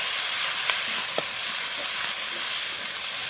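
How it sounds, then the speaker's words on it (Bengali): Chopped tomatoes frying with browned onions in a pan, a steady loud sizzle and hiss with a couple of faint stirring clinks, no talking. "এখন দিয়ে দেবো টমেটো কুচিগুলো"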